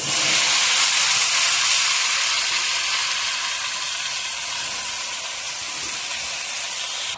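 Chopped spinach hitting hot oil spiced with ground coriander, black pepper and chili powder, giving a loud, steady, bright sizzle and hiss that eases slightly but holds on alone throughout.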